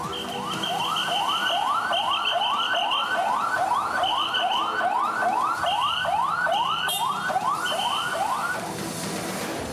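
An ambulance siren wails in a fast repeating rising sweep, loud and steady for nearly ten seconds, with a high constant tone layered over it.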